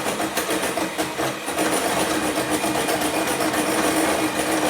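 An electric whisk beats cake batter for a Swiss roll in a bowl, giving a steady, loud motor whir with a slightly rattling texture as the beaters move around the bowl, running continuously with no talking.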